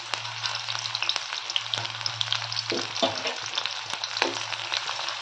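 Onion, mustard seeds and curry leaves fry in hot oil with a dense, continuous sizzle, crackle and spit, plus a low steady hum and a few stirring knocks.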